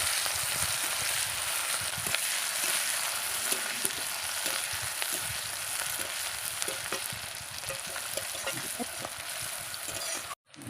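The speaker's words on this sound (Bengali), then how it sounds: "এবার আমি এখানে দেব পেঁয়াজ কুচি। পেঁয়াজ কুচিটাকে লালচে করে ভেজে নেব।" Chopped onions frying in hot oil, a dense continuous sizzle with occasional stirring clatter, steady and close throughout, ending abruptly.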